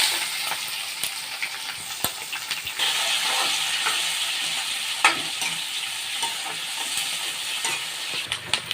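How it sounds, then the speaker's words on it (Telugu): Onions fry in a pan for mushroom curry, a steady close sizzle broken by scraping stirs and occasional clicks of the spoon. "ఉల్లిపాయలు వేస్తాం."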